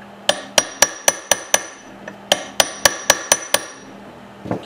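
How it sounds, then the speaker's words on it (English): A hammer taps a tapered pin down into a hole during a Maytag engine rebuild, giving sharp metallic clinks in two quick, evenly spaced bursts of about six and seven hits, close and clear with no talk. "Stick it in a hole there. Tap it down."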